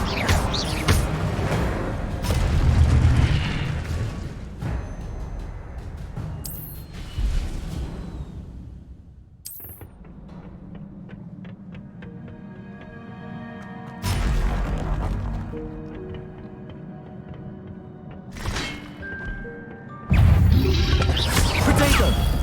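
Spell impacts and fiery bursts from an Incendio fire spell in Hogwarts Legacy gameplay, a series of loud crashing booms and whooshes separated by quieter gaps, with a final burst near the end.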